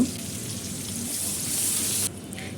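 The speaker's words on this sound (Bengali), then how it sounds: "সাথে পরিমাণ মতো পেঁয়াজ কুচি দিয়ে দিচ্ছি পেঁয়াজটাকে সামান্য একটু ভুনে নেব" Chopped onion frying in hot oil with garam masala, bay leaf and dried chillies for a prawn bhuna, a steady close sizzle that swells slightly before cutting to a quieter hiss near the end.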